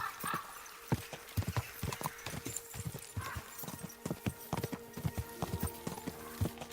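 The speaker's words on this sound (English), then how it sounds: "there's a horse race or a chase with a horse" Rapid, steady hoofbeats of a galloping horse in a race or chase in the video game Kingdom Come: Deliverance 2, clip-clopping without pause, with a faint whinny in the mix.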